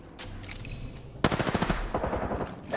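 Automatic gunfire in the battle royale video game Apex Legends: a rapid burst of close shots rattling for about a second and a half, over faint game ambience and distant shots, with no talk.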